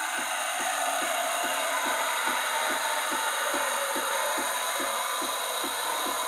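Melitta Caffeo Solo & Milk coffee machine steam wand frothing milk in a glass: continuous loud hissing steam with a steady rhythmic low pulsing throb underneath.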